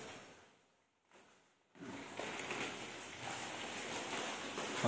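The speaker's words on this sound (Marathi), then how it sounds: "पाऊस चालू आहे तर लाईट येते जाते सारखी." Steady rain falls outdoors in the Konkan monsoon, a broad even hiss that drops away briefly near the start, then returns at full strength and holds for the rest, with no talk.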